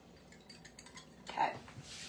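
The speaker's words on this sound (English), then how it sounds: "Water, ingredients, whip it up." A whisk clinks and scrapes against a bowl while water and other ingredients are whipped together for grain-free roasted cauliflower bites; soft and close, with a brief louder flurry of clinks midway.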